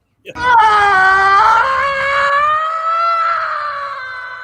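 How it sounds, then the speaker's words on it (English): A man in a Star Trek: Insurrection film scene lets out a long, loud, strained scream that holds steady and slowly tapers off over about four seconds. "there's a point where he screams that sound horrible"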